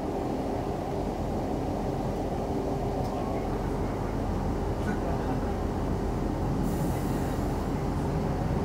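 Northern Rail train on the Barnsley to Huddersfield line rumbles steadily as heard from inside the carriage, a continuous loud roar of wheels on track with faint squeals approaching a station.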